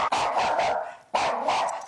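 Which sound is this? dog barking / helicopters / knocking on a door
dog barking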